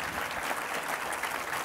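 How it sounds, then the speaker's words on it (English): An audience at a transplantation leadership talk claps together in a dense, steady round of applause that fills the whole short stretch. "Could we give you a round of applause for that behavior?"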